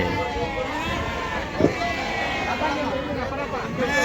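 Sheep bleat at a busy sheep market in Pebbair, with one clear bleat rising above the steady crowd babble and background livestock noise.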